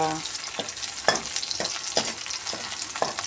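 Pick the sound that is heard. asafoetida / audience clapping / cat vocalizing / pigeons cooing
asafoetida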